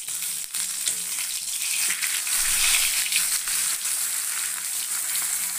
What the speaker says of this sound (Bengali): এই দেখো বেগুনটা ভাজা করছি, দেখো কত কম তেলে এই বেগুনটা ভাজা করছি